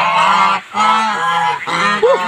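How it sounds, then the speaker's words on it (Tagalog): Geese on a farm in the Philippines honk loudly and close by, several harsh, nasal calls running together in quick succession with brief gaps, one rising honk near the end. "Tingnan niyo po yung mga gansa natin."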